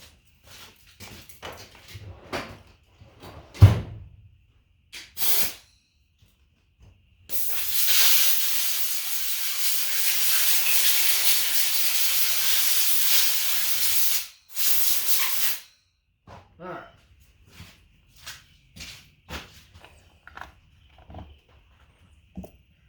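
Compressed air blasts through a part with a loud, steady hiss lasting about seven seconds, followed by a shorter burst, with scattered clicks and handling noises before and after.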